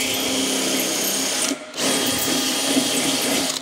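A power drill runs steadily at high speed, close by, with a brief pause partway through before whirring on.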